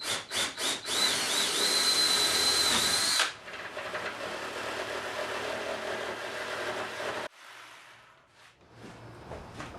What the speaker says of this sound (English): Now I'm going to go ahead and pre-drill some pilot holes and use a jigsaw to cut them out.